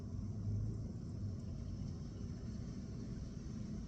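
A car pulls out of a house driveway in the rain, heard as a steady low engine rumble with a faint wash of rain noise, fairly distant and unchanging.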